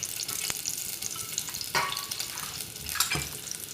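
Onions fry in oil in a pot, giving a soft, steady sizzle with occasional clinks and scraping sounds.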